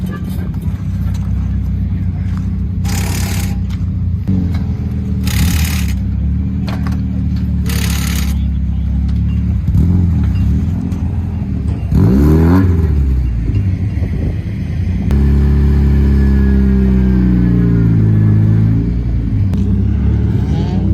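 A Mazda Miata being unloaded from a trailer at a drift event, its engine idling with a steady low rumble and rising into several rev bursts, with loud broadband bursts and other race cars around, and voices briefly talking over it.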